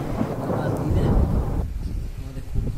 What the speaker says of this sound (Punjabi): ਆਹ ਮੀਂਹ ਦੇਖੋ ਕਿਵੇਂ ਹੋ ਗਿਆ, ਹਨੇਰੀ ਆ ਗਈ ਆ